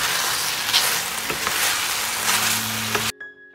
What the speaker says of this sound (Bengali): আর এখন কিন্তু হাই হিটে আবার একটু ভেজে নিব এই ক্যাপসিকামগুলোকে 2 মিনিটের মতো